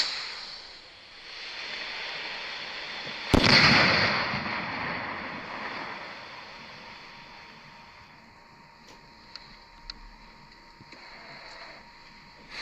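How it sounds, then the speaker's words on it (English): A Celtic ballshell firework rocket with a Gold King Crown effect bursts with a sharp, loud bang, then a long crackling, fizzing shower slowly fades, with a few faint pops trailing off afterward. "this effect is the Gold King Crown effect, and we're going to roll some footage and have a look at the quality of the brake on this"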